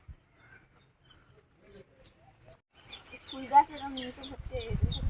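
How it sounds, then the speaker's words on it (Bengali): Quiet at first, then a burst of shrill, repeated squawks and chirps from several parakeets in a large tree, growing busier toward the end alongside some speech. "পুরো গাছটা কি বড় এর গোড়ায় পড়ে ভর্তি হয়ে আছে টিয়া পাখিতে"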